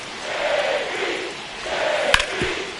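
Stadium crowd noise from an MLB baseball video game during a tense ninth inning, a steady broad roar swelling and easing, with a sharp crack-like hit near the end.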